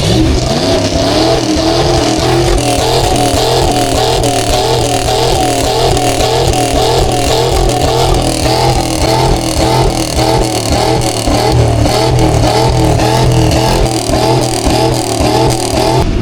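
An old Ford truck engine is held at high revs near redline, a loud, sustained, rough roar with a steady pulsing throb. It stays at full intensity from start to finish.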